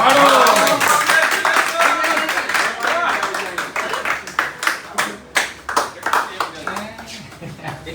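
A group of people clap their hands in scattered, uneven bursts that sharpen into crisp, close claps toward the end, under steady, lively chatter and voices throughout.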